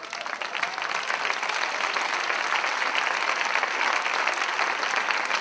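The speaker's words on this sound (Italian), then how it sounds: "Fate un applauso, per favore, agli studenti di Pop Corner e ai maestri, soprattutto." Steady, dense applause from an audience at a student concert, loud and sustained throughout with no break.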